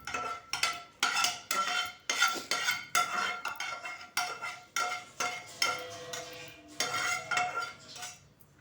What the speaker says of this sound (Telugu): ఇప్పుడు ఇందులో ఈ మగ్గు పోసేసి శుభ్రంగా కలిపేద్దాం.